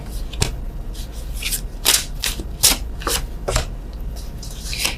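Tarot cards are shuffled by hand close up: a run of crisp riffling and slapping bursts at an uneven rhythm, several sharper flurries standing out, with no talk.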